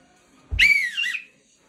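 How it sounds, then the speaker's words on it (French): A single sharp referee's whistle blast for a penalty during the Montpellier vs PSG football match, bright and shrill, lasting under a second, followed by quiet. "l'arbitre va siffler penalty pour passer en main"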